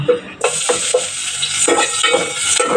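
Sardines sautéing in a hot pan with odong noodles, a steady bright sizzle broken by repeated scraping stirs of a utensil against the pan, close and loud, with no talking.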